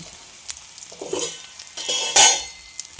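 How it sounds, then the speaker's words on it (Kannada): Garlic frying in hot oil while it is stirred, a close sizzle broken by scraping strokes and a sharp clatter of the spoon against the pan near the middle. "ಬೆಳ್ಳುಳ್ಳಿ ಎಣ್ಣೆಯೊಳಗೆ ಫ್ರೈ ಆಗಿದ್ದು ತಿನ್ನೋದಂದ್ರೆ ಭಾಳ ಇಷ್ಟ ನನಗೆ"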